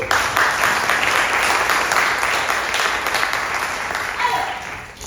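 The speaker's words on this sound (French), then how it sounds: "Applaudissons-les aussi" A game show studio audience applauds in a steady, loud wash of clapping that holds for several seconds and eases slightly toward the end.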